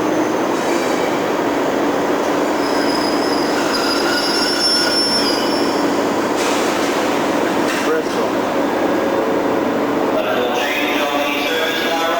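Railway station ambience in 1996 with a train nearby, wheels squealing and humming, machinery whirring and faint background voices in a large echoing space.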